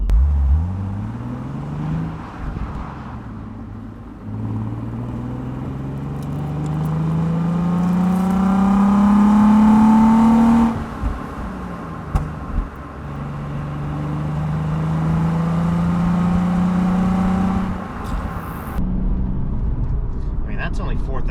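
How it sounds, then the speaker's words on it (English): A 2014 Nissan 370Z engine revs up as the car pulls away, its rising tone climbing steadily, dipping, then swelling again, loud and close from inside the cabin with road noise around it. "So you get a decent engine sound out of this."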